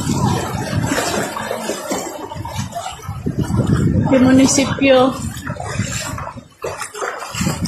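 Rough sea churns and roars as Super Typhoon Uwan hits the Bicol coast, a dense, constant wash of surf and wind. People talk loudly over it the whole time.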